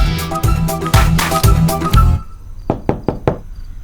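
Knocking on a door, heard after a stretch of loud busy sound: four sharp, distinct knocks in a quick, fairly even sequence, close and clear.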